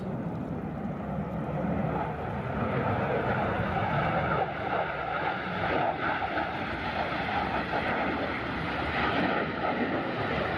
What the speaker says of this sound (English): You can hear the rumble of a jet.